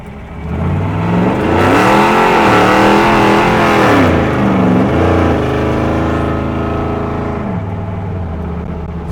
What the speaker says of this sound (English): Smoke the tires there a bit.